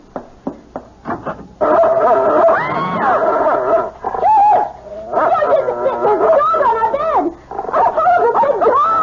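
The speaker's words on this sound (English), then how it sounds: "It's only a dog, for Pete's sake." A dog in a radio mystery drama barks, yips and whimpers with rising and falling whines. Short sharp yelps come first, then longer, close, loud whimpering runs that fill most of the stretch.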